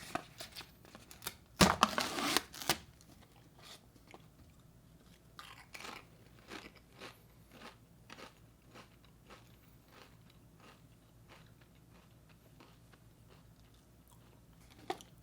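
Crunchy cheddar Pringles chips being bitten and chewed up close: a loud crackling bite burst, then a long run of quieter, irregular crunches with no talking.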